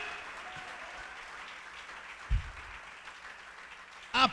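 A church congregation offers applause to God, with sustained clapping filling the space throughout and a couple of louder bursts standing out.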